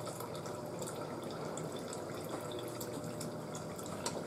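Frigidaire refrigerator water dispenser sputtering as air clears from the line after a new ULTRAWF filter install, a steady broadband hiss and splash of water into a container with irregular spitting bursts, close and continuous.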